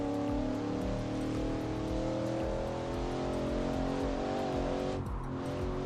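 A racing car engine in the original Assetto Corsa driving game drones loud and steady with a rich harmonic tone, its pitch shifting slightly through the run and dipping briefly near the end.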